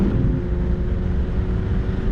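Race car engine held at full throttle, heard from inside the cockpit at Sonoma Raceway, a loud steady drone with rising tonal bands and wind rush over the whole stretch.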